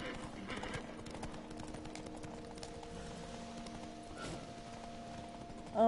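Quiet, steady clip-clop of horse hooves in Witcher 3 gameplay, a faint continuous trot with little else over it apart from a brief louder sound at the very end.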